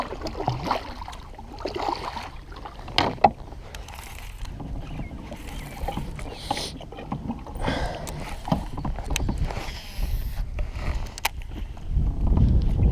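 Paddle strokes splash and dip near a small boat out fishing on the Delta, uneven watery swishes and knocks against a breezy outdoor background with some wind buffeting the microphone, no talking.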